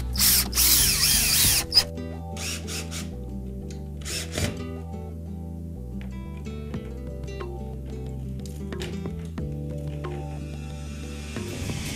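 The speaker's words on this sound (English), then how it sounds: "Now we'll put the screws down through it." A power drill drives screws down through a dome being fitted on a home's rooftop, with short whirring bursts over a steady tonal hum.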